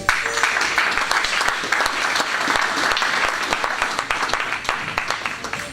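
A church congregation at a Sunday service applauding, a dense sustained clapping that fills the room from start to finish.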